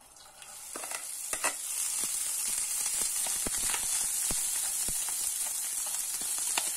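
Rice and shiitake mushrooms being stir-fried in a wok after pumpkin was cooked, with a steady hiss of sizzling oil and repeated scraping and clacking of the spatula against the pan, no voices.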